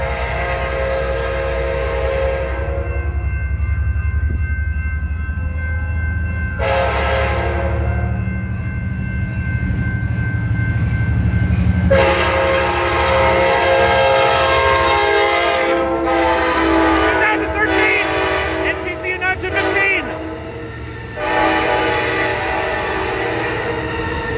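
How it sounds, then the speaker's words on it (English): Amtrak California San Joaquin train 703, a northbound double-header with F9PHI and NPCU units, passes a crossing at Blackstone Avenue in Fresno, its horn sounding in loud, sustained blasts over the steady rumble of the cars. "here comes San Joaquin train"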